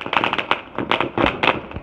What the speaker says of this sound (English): There's a lot of fireworks. Oh my god. A lot of TNT fireworks.